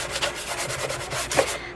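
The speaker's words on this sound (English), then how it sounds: "not too coarse of a 120 sanding block" A 120-grit sanding block rubbed over a thrifted item, quick rhythmic back-and-forth scratchy strokes, close and fairly loud, with no talking.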